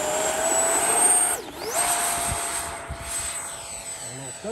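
An FMS Rafale 80mm electric ducted-fan RC jet with a stock 2100 kV 12-blade motor flies past loud and close, its whine sweeping down then surging back with a brief stutter in the engine note, with a voice talking over it.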